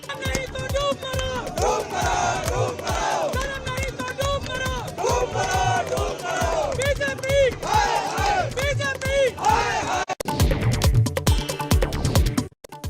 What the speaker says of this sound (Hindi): दिल्ली में आम आदमी पार्टी के दफ्तर पर कार्यकर्ताओं की भारी भीड़।